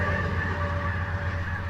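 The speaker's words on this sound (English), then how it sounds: "I did have to wait for a train to go by" A train rumbles steadily past near a pond, a low droning hum with a constant tonal whine layered above, close and unchanging over the short stretch.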